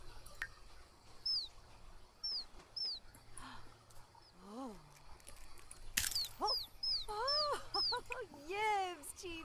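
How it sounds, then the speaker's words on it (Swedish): A small chick in The Sims 4 gives repeated short, high, rising peeps, joined later by louder, lower bird-like calls over a steady, busy game background. "Nu kommer en till liten kyckling."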